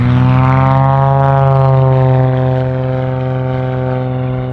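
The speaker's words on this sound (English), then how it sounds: "one after the other, the Cessnas touched down on runway 36" Small Cessna propeller planes landing one after another on runway 36 at the Oshkosh airshow, a loud, steady engine drone with a strong low hum that eases slightly as the aircraft pass, with no voices.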